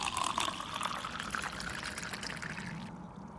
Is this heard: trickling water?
yes